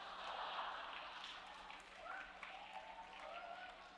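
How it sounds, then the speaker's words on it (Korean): A congregation at an evening service of a mission conference claps in a faint, dense patter, heard from a distance with a little voice mixed in. "이거 왜 박수를 치지?"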